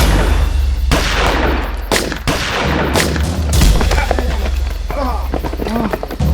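Rapid gunshots crack out in bursts during a staged police shootout, loud and close, several sharp reports over a rumbling low background, with faint voices in between.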